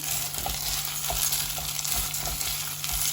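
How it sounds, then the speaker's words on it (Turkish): Food sautéing in a pan while cooking an iftar meal: a steady, close hiss of sizzling with soft periodic scraping and stirring sounds, and no talking. "Şimdi güzelce kavuralım."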